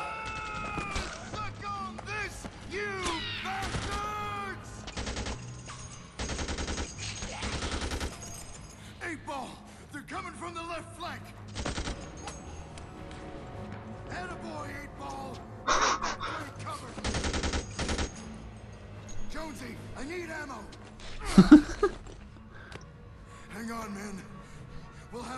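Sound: gunfire in the video game Dead Rising 2

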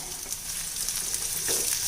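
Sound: onions frying in hot oil

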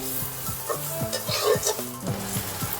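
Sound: turmeric being sautéed in a pan

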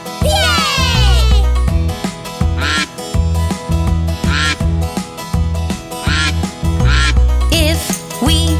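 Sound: duck quacking

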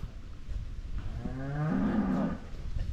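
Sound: cow mooing before slaughter

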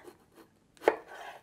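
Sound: knife slicing cucumber into half moons

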